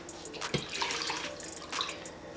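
Water poured from a measuring cup into a pot holding two cups of rice, a steady splashing trickle with a brief louder splash partway through, close and moderately quiet with no talking.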